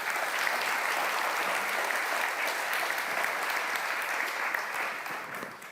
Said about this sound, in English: Can I have a round of applause for them?